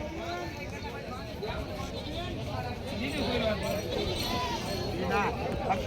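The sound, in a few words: goats bleating at Parbhani goat market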